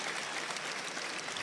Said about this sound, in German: Und ich bitte trotzdem um einen großen Applaus für beide Kämpfer